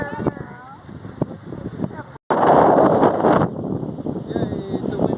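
Wind buffets the microphone on a beach, loud gusty roaring that swells midway and then eases, while voices talk over it in the early part.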